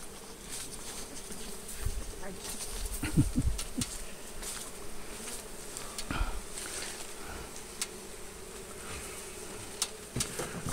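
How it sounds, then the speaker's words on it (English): Agitated bees buzz around a hive behind a chimney during a hive removal at a state park, a steady swarming drone with occasional closer passes over outdoor background noise. "the bees are starting to get a little bit aggressive and stirred up because it's warming up"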